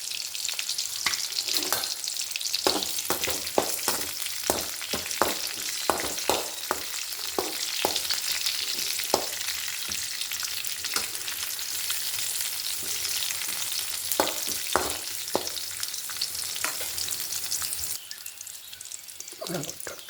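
Onions fry in a hot pan with a steady broad sizzle, broken by frequent scraping stirs that come in irregular bursts close to the pan. The sizzle drops away near the end.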